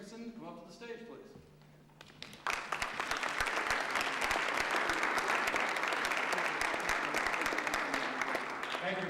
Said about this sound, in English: It's nice to still get applause as I enter my second year as mayor.